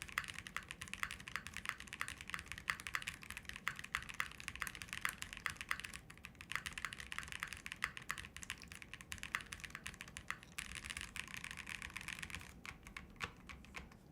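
Rapid, continuous typing on a Link65 mechanical keyboard resting on a desk pad: dense, even clacks close up, with no voices.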